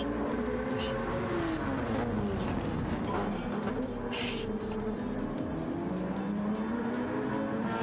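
A Porsche race car runs at speed during Daytona 24-hour qualifying, its engine note sweeping up and down as cars pass on track, heard at moderate distance under continuous crowd and track ambience.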